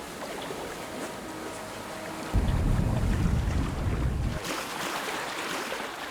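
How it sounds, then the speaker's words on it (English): Splashing water in the video game Of Ash and Steel as a character wades in and swims, a loud wash of churning water that swells midway, over a steady wind-like ambience. "can we walk in the water? Do we die? Swimming."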